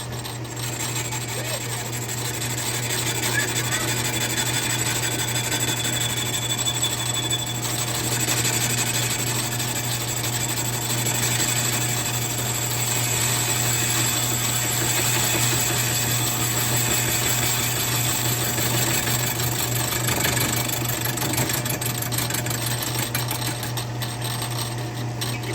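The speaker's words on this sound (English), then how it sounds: "Now with my lathe, it's better off for me to go from the inside out." A lathe machining a 50cc racing chainsaw cylinder, working from the inside out, gives a steady continuous motor hum with a constant whine and faint scraping texture, unbroken and close throughout.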